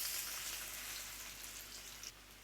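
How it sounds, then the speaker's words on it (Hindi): Garlic sizzling in hot oil in a pan for an Indian radish greens saag, a faint steady frying hiss with light crackle, no voices. "अभी मैं थोड़ा सा लहसुन ऐड कर देंगे।"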